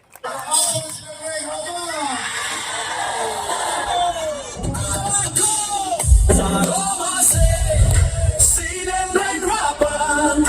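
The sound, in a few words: audience applause and cheering at closing ceremony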